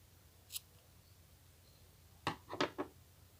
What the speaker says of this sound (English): Take your scissors and cut the long piece of yarn.